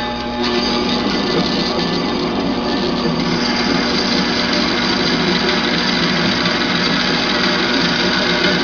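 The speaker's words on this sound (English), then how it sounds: "we have the core mounted in the bandsaw, and what we'll do is we'll just go ahead and we'll cut it" A bandsaw cuts through an inch-and-a-quarter-thick steel core for a high-voltage power supply, giving a loud, continuous grinding whine that holds steady the whole time with no talking.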